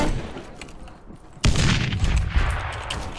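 A shooting video game fires a sudden loud burst of gunfire partway through, after a quieter stretch, with the booming crackle carrying on at a fairly steady level to the end.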